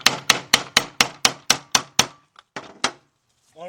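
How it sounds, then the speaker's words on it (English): A hammer taps repeatedly around the edges of a car part from a Chrysler, Dodge, Jeep or Ram vehicle, delivering about nine close, sharp, evenly spaced strikes followed by two or three more after a brief pause, with no talk. "you take the hammer and you go around"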